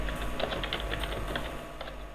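Rapid clicking of keys on a computer keyboard as a desktop shortcut name is entered, steady irregular taps at close range with no voices.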